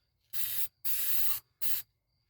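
Spray paint misted from a can onto a curb-rashed wheel repair in three short hissing bursts, the middle one longest, close and clear with brief silences between.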